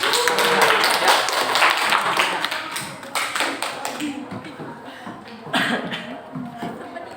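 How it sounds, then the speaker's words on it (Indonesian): Classroom applause for the third student group at a school session, a loud patter of clapping that fades over several seconds into scattered taps and murmuring voices. "Berikan aplaus untuk kelompok 3."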